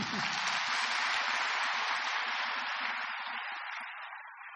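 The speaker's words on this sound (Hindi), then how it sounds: "देखो अपने लिए ताली बजाओ" An audience in a Brahma Kumaris spiritual class claps for themselves, a dense, steady wash of many hands that holds loud and even, then thins slightly toward the end.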